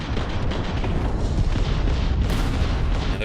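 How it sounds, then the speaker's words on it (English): A spaceship fires ballistic weapons in the video game Starfield, a dense continuous barrage of booming gunfire with a sharp crack near the end, loud and sustained with no pauses. "Let's shoot some ballistic weapons at them."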